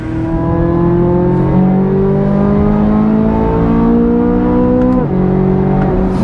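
A Corvette C8 Z06's hand-built V8 revs to 8,600 RPM and howls loudly through the gears on a canyon road, its pitch climbing steadily, then dipping briefly before rising again, heard from inside the car.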